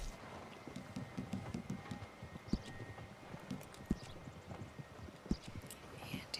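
Horse hooves clip-clopping in the game Red Dead Redemption 2 Online, a quiet, fairly steady walking rhythm of hoof knocks with a few sharper louder strikes, heard alone over faint ambience.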